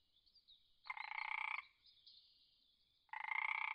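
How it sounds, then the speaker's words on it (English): An Eastern dwarf tree frog calls in two bursts, each a buzzy, rattling trill lasting under a second with a pause between, close and clear over a faint steady high hiss. "Eastern dwarf tree frog."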